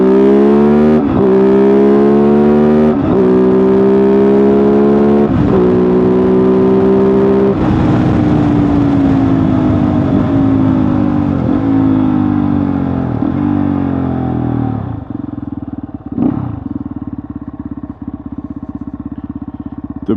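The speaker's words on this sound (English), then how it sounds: "here is the acceleration of the Kove Hunter Kove 450" A Kove 450 Rally single-cylinder motorcycle accelerates hard on a closed road, its engine note climbing through several gear shifts with brief dips between them before settling to a lower drone, loud and close.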